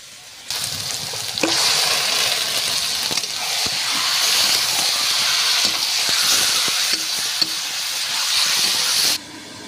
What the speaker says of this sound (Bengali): তেলটা হয়ে গিয়েছে, এবার মাংসটা ঢেলে দিচ্ছি